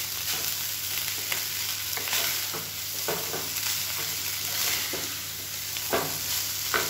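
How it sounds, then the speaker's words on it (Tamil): Egg fried rice stirred in a hot pan, a spatula scraping and tossing the rice in soft, irregular strokes over a continuous low sizzle, close and fairly quiet, with no talking. "இப்படியே மெதுவாக கிளறி வச்சுக்கலாம்"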